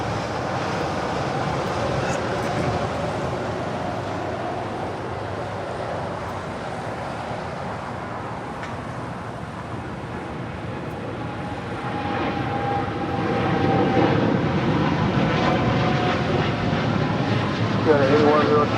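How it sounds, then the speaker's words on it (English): United Airlines Boeing 787-10 Dreamliner rolling down runway 25 right at Los Angeles International Airport on takeoff, its engine roar steady and then swelling louder toward the end, with a voice talking over it. "So we got United Airlines flight 8102 heading to Newark in a 787-10 Dreamliner, now rolling down 25 right."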